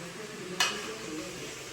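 Vegetable shaak curry cooking in a pan at home, a soft continuous sizzle with a single brief scrape or clink of a utensil early on.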